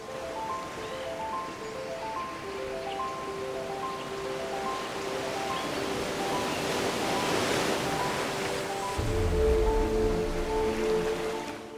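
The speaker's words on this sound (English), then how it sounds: "Ilawa Mainit suddenly opens into a hot waterfall, fed by geothermal energy" Ilawa Mainit hot waterfall, fed by geothermal energy at the foot of Mount Leonard Kniazev in Davao de Oro, Philippines, pours with a steady, broad rushing hiss that swells slightly toward the end, under a soft plucked melody.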